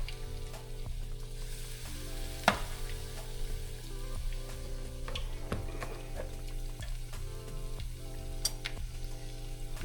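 Bosnian pancake batter frying in hot oil, a continuous moderate sizzle with occasional sharp pops and crackles as spoonfuls drop in, close and without speech.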